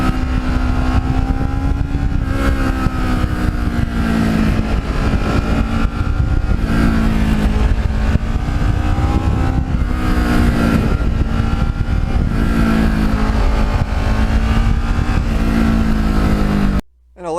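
Kawasaki Ninja motorcycle riding on twisty roads, its engine droning steadily and loud throughout with rising and falling pitch as the rider works through the bends, wind rush layered over it, cutting off abruptly at the end.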